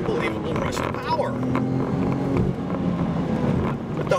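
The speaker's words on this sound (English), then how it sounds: "You get this sort of deep engine exhaust note" The 508-horsepower Volvo S60 Polestar gives a deep, rumbling exhaust note that stays steady and loud close by, heard under a voice talking.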